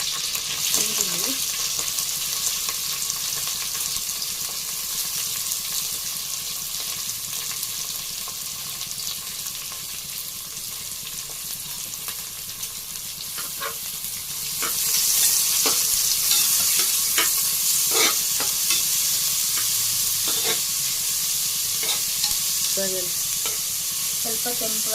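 Chopped onions, green chillies and curry leaves fry in hot oil in a pan, giving a steady close sizzle broken by scraping strokes of a stirring spoon that grow louder and more frequent in the second half.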